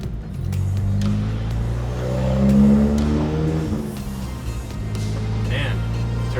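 An Audi B8 fitted with a CTS BOSS 500 big turbo revs through its exhaust, a loud, close, droning engine note that swells and settles over several seconds, with a voice talking over it.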